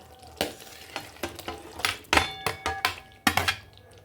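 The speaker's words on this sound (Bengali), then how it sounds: "একটু আস্তে করে হালকা হাতে নাড়াচাড়া করে নেব।" Pointed gourd stirred gently into a sizzling spice masala with Kashmiri chilli powder, a continuous frying hiss under a string of distinct spoon scrapes and light metallic clinks against the pan, close up and without talk.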